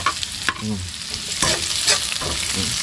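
Garlic frying in a pan with oil: a constant close hiss and sizzle runs throughout, with intermittent scraping or stirring scuffs and brief tonal clinks over it.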